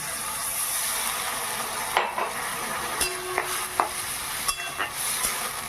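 Bitter gourd and potato sizzle in a pan for a poppy-seed dish as a utensil stirs them, a soft continuous fry broken by several light scraping knocks against the pan.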